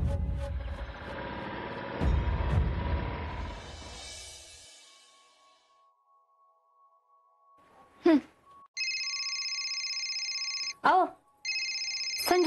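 A telephone rings in two clear electronic bursts near the end of a scene at a tea stall, after a stretch of people talking and a quiet pause, with brief voices between and around the rings.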